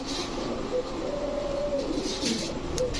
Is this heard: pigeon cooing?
yes